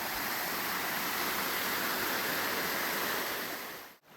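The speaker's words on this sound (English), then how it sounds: "Beautiful little creek." Water flows steadily down a small creek at a bedrock prospecting site, a dense, even rushing wash that stays loud and close before cutting off abruptly at the end.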